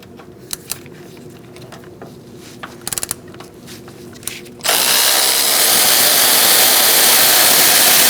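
Faint clicks and metallic handling, then an impact tool or power drill bursts in loud and stays on in a steady, dense whir while a bolt is removed from a Chevrolet Cruze front strut assembly.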